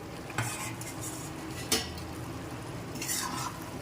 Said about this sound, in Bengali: এবার আমি এর মধ্যে দিয়ে দিচ্ছি ভেজে নেওয়া আলুগুলো